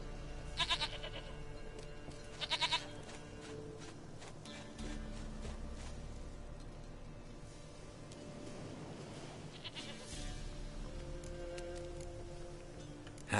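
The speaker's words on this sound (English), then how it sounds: "Goat of mine, dearest, sweetest goat." A goat in The Witcher 3: Wild Hunt lets out a few bleats over steady ambient game sound, and the bleating stays fairly close and distinct against the continuous background.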